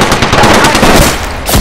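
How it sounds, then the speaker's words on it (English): Apex Legends gunfire in close, loud bursts of rapid automatic shots running throughout, with a sharper crack near the end. "Getting shot at."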